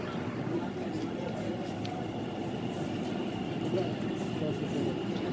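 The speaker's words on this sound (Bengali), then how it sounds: "এই মেট্রো ঢুকে গেছে" Low, continuous rumble of a metro train rolling into a station in Howrah, with faint voices in the background.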